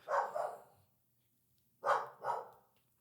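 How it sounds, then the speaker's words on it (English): A dog barks in the background during a podcast recording: two quick pairs of sharp, fairly close barks separated by a short silence, with no talk over them. "Sorry, the dog's barking."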